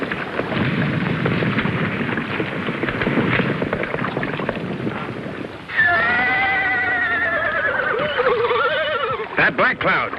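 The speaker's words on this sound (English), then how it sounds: "That Black Cloud, that Lame Bear's war horse" A war horse whinnies loudly in an old Western TV episode, a long wavering neigh following a stretch of noisy action, with brief sharp sounds at the end.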